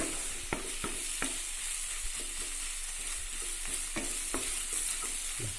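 Ingredients for a potato curry, including ginger, sauté in a hot pan with a soft, continuous sizzle, while a spoon scrapes and stirs in intermittent clicks and knocks; fairly quiet and close.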